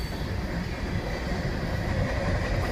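A long Union Pacific freight train of over 200 cars rolls past on the main line, a loud, steady low rumble of wheels and cars filling the air without break.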